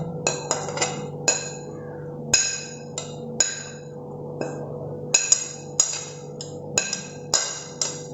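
Half a coconut's pieces dropped into a mixer jar while preparing a ground coconut paste for a jackfruit dish, giving a run of about a dozen sharp clinks and knocks at irregular intervals over a steady low hum.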